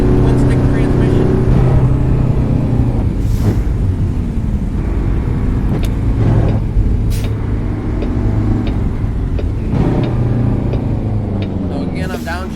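A truck engine in American Truck Simulator drones loudly and steadily while a twin-stick transmission is worked through downshifts, with pitch dips and clunks as gears change and someone talking over it.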